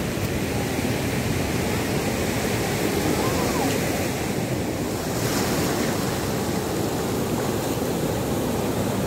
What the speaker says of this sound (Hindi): अभी लहरें काफ़ी ऊंची उठ रही हैं।